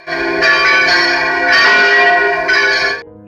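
A large monastery church bell tolls loudly and steadily, three strikes about a second apart with rich ringing overtones that sustain between blows.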